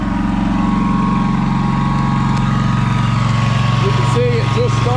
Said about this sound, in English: You can see it just started the lawnmower there.